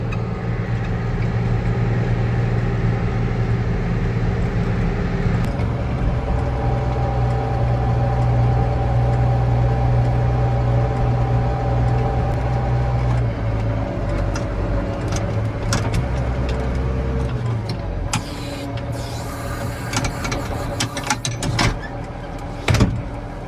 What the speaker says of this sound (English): There's Dad combining.